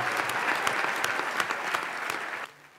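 An assembly hall bursts into sustained applause greeting Sergio Mattarella's re-election as President of the Italian Republic, dense crowd clapping that cuts off abruptly near the end.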